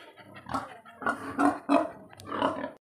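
Pigs on a farm grunting in a run of short, rough bursts, several loud close calls following one another with brief gaps between.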